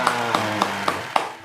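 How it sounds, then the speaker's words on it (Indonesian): Five sharp claps from children's hands, evenly spaced in a slow, steady rhythm, close and clear with nothing else sounding between them. "kita stop tepuk tangan dulu buat Tuhan Yesus"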